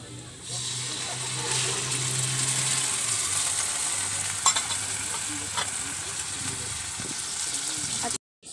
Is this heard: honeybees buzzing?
no